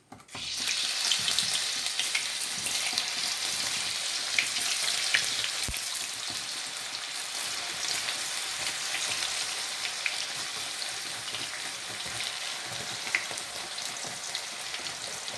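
Banana slices for chips frying in hot oil, a dense, continuous close-up sizzle with scattered crackles and pops that holds steady throughout, with no voices.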